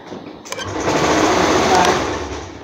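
A sewing machine runs steadily, stitching the seam of an umbrella frock down to the hem, a continuous close whirring that swells slightly toward the middle, with a voice speaking over it.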